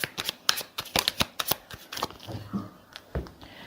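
Tarot cards being shuffled by hand: a rapid series of crisp riffling and slapping bursts in uneven rhythm, close and clear, with no talking.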